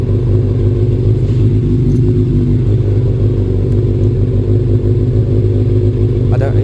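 A BMW F650 motorcycle engine runs steadily with a low, rumbling idle, loud and close throughout.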